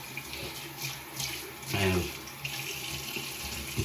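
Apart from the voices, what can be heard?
cold tap water running for splashing face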